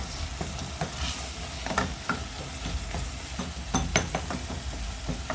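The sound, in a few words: stirring cooked tomato mixture in a pot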